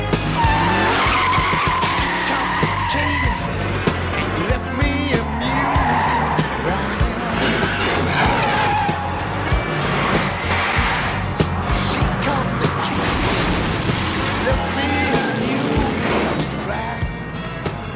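The Bluesmobile, an old police car with a 440 cubic inch cop engine, cop tires and cop suspension, roars and skids with long loud tire squeals and revving close by.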